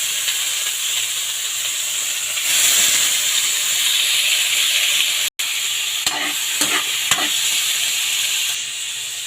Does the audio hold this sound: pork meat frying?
yes